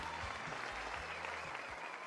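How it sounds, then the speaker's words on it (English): An audience at a cabaret show gives dense, steady applause and clapping that fills the whole short stretch. The crowd is loud and close, with no voices standing out. "Now clap till your hands get sores"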